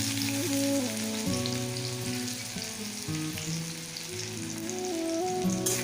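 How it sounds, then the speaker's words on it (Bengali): Chopped onions fry in hot oil, a steady loud sizzle and crackle continuing throughout with no voices. "পেঁয়াজটা আমি ভালো করে ভেজে নেব লাল লাল করে একটু ভেজে নেব"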